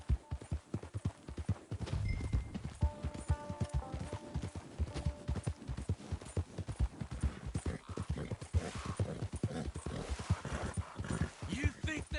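Horse hooves clopping in a steady rhythm in the video game Red Dead Redemption 2, continuous throughout and running under frequent talk.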